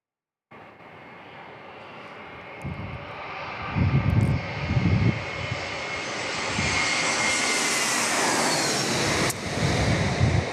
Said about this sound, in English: we got the Bluebirds, the Paisley Bluebirds, JetBlue from the East Coast